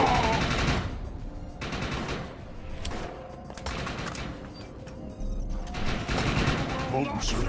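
Covering fire in the Defiance shooter game: continuous machine-gun bursts and rattling shots dominate throughout, with brief pauses and a few sharper cracks and booms layered in.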